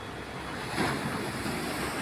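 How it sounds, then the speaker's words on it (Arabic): Calm sea waves wash gently against the Alexandria corniche, a steady soft surf with a slight swell in the middle, mixed with light wind noise and no voices. "شوفوا البحر النهارده رايق خالص، مفيش موجة عالية"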